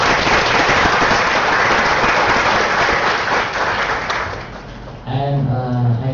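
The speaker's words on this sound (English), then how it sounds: "Please give one more applause." After a lecture at a port-city resilience event, an audience breaks into dense, loud applause that fades out after about four seconds, followed by a speaking voice.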